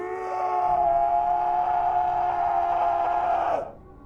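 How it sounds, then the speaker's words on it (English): A blood-curdling, high-pitched scream as a horror sound effect: one long sustained wailing cry lasting over three seconds, loud and close, then cutting off abruptly to quiet. "It was a blood-curdling scream, unlike anything I have ever heard."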